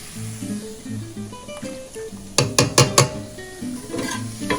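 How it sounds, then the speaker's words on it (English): Mushrooms drop into vegetable broth in a pot, giving a quick cluster of four clattering knocks and splashes over a steady simmering hiss, with faint tonal background music and no talk. "I'm gonna add the mushrooms"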